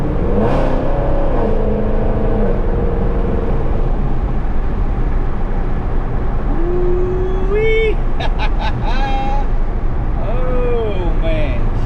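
Cammed 5.7 Dodge R/T with a Procharger supercharger accelerating, a loud, constant engine roar with rising whines and whistles as revs climb, close up and dominant throughout.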